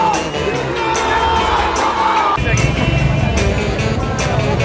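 A dense crowd of fans mills outside a cinema on Independence Day, a constant murmur of voices, shouts and whoops, with a sudden louder swell of cheering halfway through.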